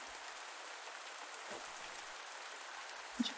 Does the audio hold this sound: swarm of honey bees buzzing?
no